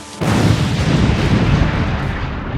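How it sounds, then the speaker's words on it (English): A loud, deep gunpowder explosion booms suddenly and rumbles on with a dense roar that slowly fades. "heard a mighty explosion"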